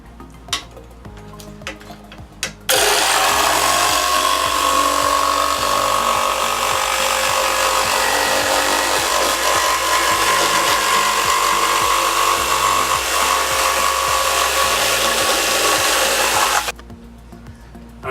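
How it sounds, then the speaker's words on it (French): Electric power saw cutting a wooden batten, its base plate pressed against the edge of a saw guide, a loud steady whine that starts after a few faint knocks, runs for about fourteen seconds, then stops abruptly. "Pour scier avec une scie électroportative, il suffit d'appuyer la semelle de l'instrument sur l'un des bords du guide scie."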